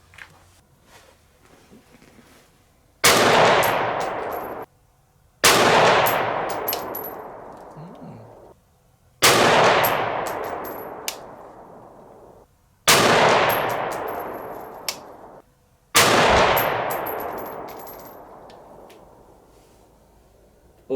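Five loud rifle shots from a 6.5 Grendel firing a hog load in Starline brass, evenly spaced a few seconds apart, each a sharp crack with a long fading echo and a faint ringing tone.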